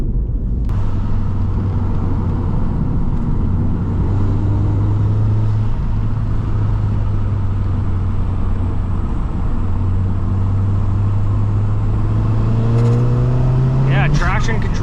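A Volkswagen MK7 GTI with an EQT stage 2 tune pulls hard in third gear with traction control cutting in. Its loud, continuous engine drone, heard from inside the car, slowly climbs in pitch throughout.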